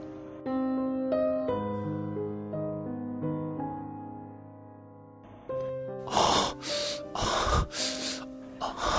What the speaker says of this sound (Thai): นี่คือเสียงลมหายใจเร่งแรงของผม เวลาที่ถูกเธอยั่วเย้า